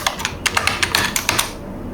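A computer keyboard is typed on at close range in MS Word, about a dozen quick crisp keystrokes in an uneven burst, with no voices.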